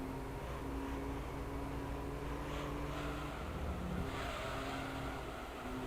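A race car engine in Gran Turismo 3 holds a steady high-rev drone before launch, a loud continuous buzzing tone with slight pitch shifts throughout, no voices.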